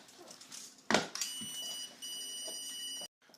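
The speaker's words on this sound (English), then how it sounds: "And if we use the stud finder" An electronic stud finder sounds a thin, high continuous beep, cutting in and out in a few bursts over quiet room tone after a soft handling bump, faint to moderate and nearby with no speech.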